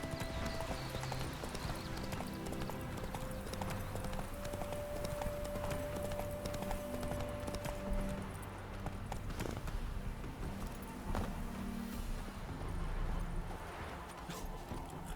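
Hooves of the horse Roach clip-clopping steadily in The Witcher 3: Hearts of Stone, a continuous rhythmic gallop with the occasional snort, playing over ambient game music and background sound.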